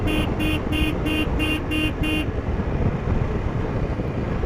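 Heavy traffic on the mountain road to the Zoji La pass toward Baltal: a car horn toots seven times in a quick regular series, then engines and road noise rumble on steadily.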